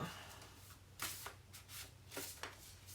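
Tarot cards are shuffled, slid and laid down on a surface during a reading, making soft papery flicks and several sharp slaps against a low steady background hum, close and fairly quiet.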